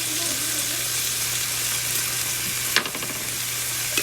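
Honey BBQ sauce sizzling and caramelizing in a hot pan while cooking for pork ribs, a steady loud frying hiss throughout with a single brief clatter near the end.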